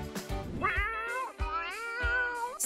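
Cat meowing in repeated drawn-out, rising and falling calls, three or four close together, fairly loud and near with no talk, beside a budget-friendly cardboard cat house.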